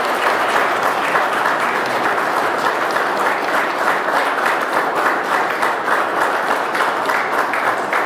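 Sustained loud applause from an audience at an official political event, a dense, even patter of many hands clapping continuously with no break and no voices standing out.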